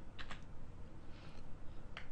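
Computer keyboard keys pressed in a few quick, faint clicks, a pair close together then another after a pause, against steady low background hiss with no speech.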